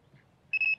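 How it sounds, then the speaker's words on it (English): A Sonik Gizmo 2 electronic carp fishing bite alarm gives a single short, clear, high-pitched beep, close and loud against near silence, broken by a tiny gap. "It's come up blue in the middle because that's the alarm that's gone off."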